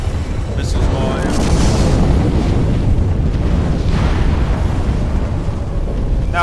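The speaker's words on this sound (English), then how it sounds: "Missiles going." Missiles launching and exploding in the Sins of the Prophets space strategy game mod, a dense continuous roar of booms and blasts that stays loud throughout, with no talk over it.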